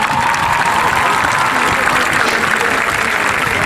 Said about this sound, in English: So parents and guardians, I would like to give you a round of applause.